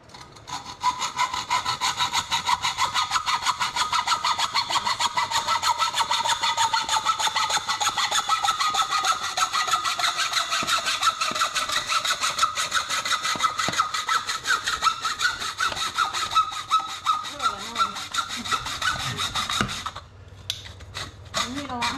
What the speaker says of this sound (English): Filing down the edges.